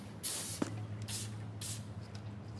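Rust remover sprayed from a spray bottle onto sticky mechanisms: a few short, breathy hissing bursts, close and fairly faint, over a low steady hum of the room.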